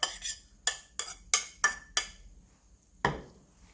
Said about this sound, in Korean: 모든 재료를 가볍게 섞어주세요.